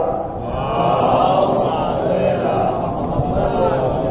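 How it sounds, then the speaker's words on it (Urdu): A large congregation at a Shia majlis at a dargah shrine answers a call with a loud, unified salawat chant, a dense sustained roar of many voices lasting several seconds. "ایک نعرے صلوات"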